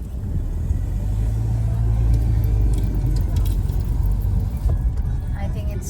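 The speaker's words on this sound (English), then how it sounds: "So driving through Chandrapur in the evening, busy roads," A car drives through busy evening roads in Chandrapur, its steady engine rumble and road noise continuous throughout, with a person talking over it.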